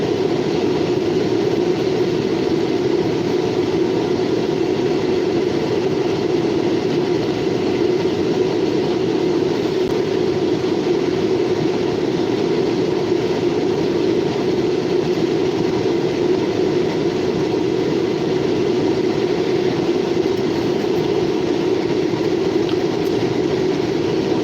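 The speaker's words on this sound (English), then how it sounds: "Got two Norfolk Southern locals around Newcastle?" Norfolk Southern local freight trains pass near New Castle, Pennsylvania, producing a steady, loud rumble of rolling cars and engine drone that holds level throughout with no pauses.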